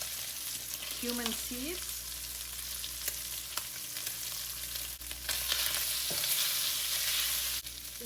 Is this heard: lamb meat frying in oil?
yes